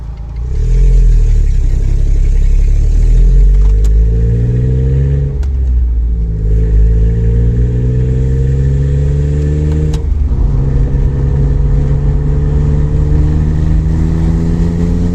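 Smart Roadster engine with a new exhaust fitted, revving up and down in several rising and falling sweeps over a deep, loud, close exhaust drone between revs.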